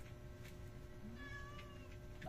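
A cat meows faintly in a home kitchen where food is being cooked, a short rising mewl standing out from a steady low room hum.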